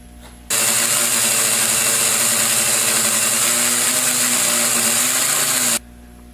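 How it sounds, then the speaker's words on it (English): A buffing wheel polishes an aluminum Mustang part with brown compound, giving a loud, steady motor whine with a hissy grinding edge that starts abruptly, runs unbroken and stops sharply. "I go back over it with the brown buffing compound to see what happens"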